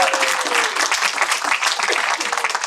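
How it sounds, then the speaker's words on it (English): A round of applause from the audience at an annual general meeting, steady, dense clapping close by with some background voices mixed in. "round of applause, a little enthusiasm"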